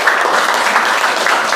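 Classroom applause for an older woman during a teaching-practice lesson, a short, steady wash of many hands clapping at close range that fills the whole moment without a break.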